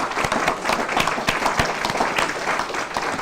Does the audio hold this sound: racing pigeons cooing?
no